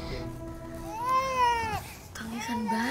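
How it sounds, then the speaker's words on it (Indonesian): An infant cries in a drama scene, with one drawn-out wavering wail that swells and fades, then a shorter cry after a brief pause, heard at moderate loudness over a low background hum. "Mbak, ada suara tangisan bayi."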